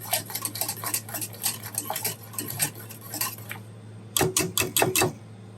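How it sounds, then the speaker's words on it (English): A whisk beats creamy grits in a metal pot, sending out rapid, bright metallic clinks in steady bursts, a brief pause and then a final quick flurry, over a low background hum. "Now I'm going to grab my whisker and I'm going to start whipping it up"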